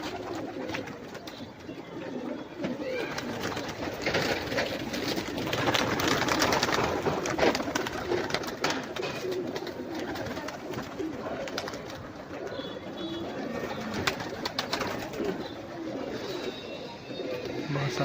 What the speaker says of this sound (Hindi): बहुत सारे कबूतर हैं माशाल्लाह।